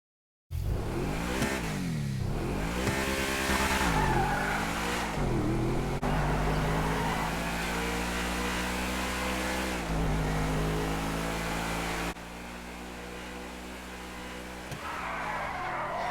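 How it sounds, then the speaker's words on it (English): Obey 9F all-wheel drive sports car in GTA 5 revs hard through repeated upshifts, its engine note climbing and dropping in several sweeps before settling into a steady, loud drone. "Now that is how an all-wheel drive sports car, supercar, you want to call it, should drive."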